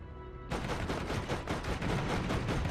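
Rapid machine gun fire in the video game Borderlands, a sudden loud burst of rattling shots that continues steadily with brief pulses, close and dense, with no talk.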